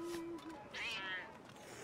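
A cat meows in Assassin's Creed Rogue, with one clear drawn-out meow near the middle after a short tone and faint background game ambience.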